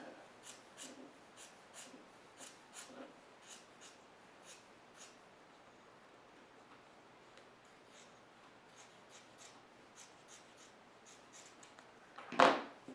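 Fabric being cut by hand with scissors, a series of soft, quiet snips at a steady rhythm, close by, ending with a louder rustle.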